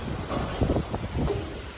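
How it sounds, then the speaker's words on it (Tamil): Summer rain arrives with strong gusting wind, producing a dense, steady roar with buffeting wind noise on the microphone throughout and no voices. "மழை சவுண்டு கேட்குது"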